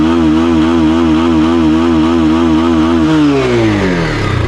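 A Hero 220F motorcycle engine warming up, running loud and close with a steady pulsing drone that rises and shifts as it revs toward the end.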